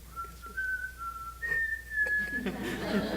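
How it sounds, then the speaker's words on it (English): A person whistles a song melody alone in a room, the clear tune gliding through a few sustained, slightly wavering notes, then ending as a burst of broad rustling noise takes over. "Can you whistle the melody of your favorite song for our audience?"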